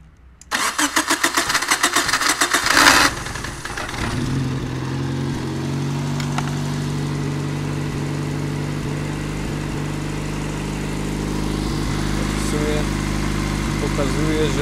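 A petrol engine on a home-built generator cranks with a rapid rattling starter burst, catches and settles into a steady, fairly loud running drone, with someone speaking over it.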